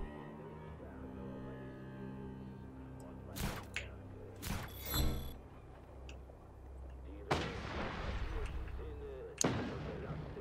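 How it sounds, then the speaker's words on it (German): Sporadic video game gunfire: a few sharp, loud shots and blasts scattered over a steady ambient background, with a heavier thud midway and two more distinct cracks near the end. "Da wird schon wieder irgendwo geschossen."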